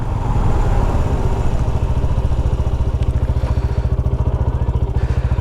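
A GPX Demon 250 cc motorcycle engine thumps in a fast, steady rhythmic pulse close to the microphone, running continuously as the bike rides along.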